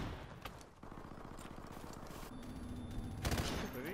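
Rapid automatic gunfire from a video game rattles in a steady, fast burst through the middle of the clip, set among layered game effects, with a louder sharp blast near the end and no talking over it.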